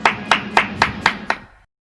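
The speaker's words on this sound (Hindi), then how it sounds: "बेरोजगार साथियों के लिए ताली और थाली, एक बार मोदी जी के लिए तो एक बार बेरोजगारों के लिए भी बजनी चाहिए।" Six sharp, evenly spaced claps or plate bangs from students protesting unemployment, ringing out one after another for about a second and a half before stopping.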